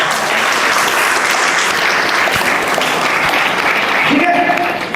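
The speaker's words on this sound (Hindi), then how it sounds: "सबके लिए जोरदार तालियां।" A large audience claps loudly and steadily, a dense wash of applause that holds throughout, with faint voices underneath.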